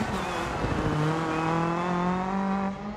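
Rally car in the DIRT 4 video game, with a loud, sustained engine note that climbs and holds at high revs and a faint tyre scrub on loose ground underneath, heard up close with no talk.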